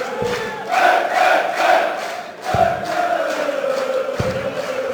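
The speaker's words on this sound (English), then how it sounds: "As you can hear now, it has livened them up a bit. They're chanting his name." Home crowd at the 2014 PDC German Darts Masters chanting a player's name in unison, a loud, rhythmic swell of many voices filling the arena throughout.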